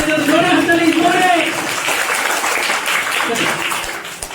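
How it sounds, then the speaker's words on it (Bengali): An audience at a school quiz competition applauds in a brief burst of clapping under a speaking voice, fading out toward the end. "বেঙ্গল নিম্ন বুনিয়াদী বিদ্যালয়ের জন্য জোরে হাততালি, জোরে"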